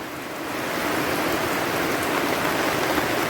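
Heavy afternoon rain pours down outside a rural home, a dense, steady hiss of drops on surfaces that swells in the first second and then holds loud and unbroken.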